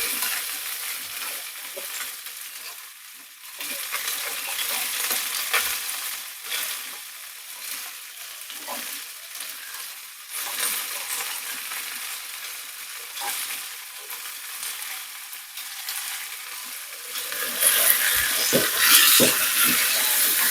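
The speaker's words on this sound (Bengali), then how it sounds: "এইবার এই তেলেতে আমি সবজিগুলো দিয়ে দেবো।" Yardlong beans, potato, eggplant and tomato hiss and sizzle as they fry in fish oil with half-fried onion, with steady crackling and occasional clatters as the pan is stirred.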